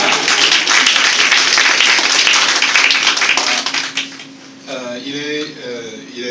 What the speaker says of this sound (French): M. Olivier Manoni, ici présent, que nous applaudissons.